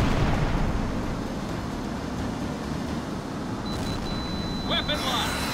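An enemy plane shot down in the HAWX jet combat game gives a heavy, roaring explosion rumble that fills the scene, with a radio voice speaking over it and a brief high tone near the end.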